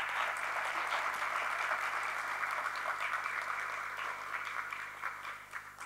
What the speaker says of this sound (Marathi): गणपत धुमाळे या माणसासाठी ना जोरदार टाळ्या वाजवल्या पाहिजे.